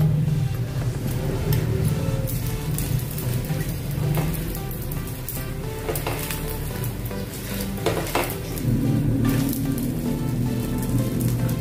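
Oil sizzles and crackles steadily in a pan as a fasting uttapam fries, a continuous close hiss with occasional faint clinks of utensils and no talking.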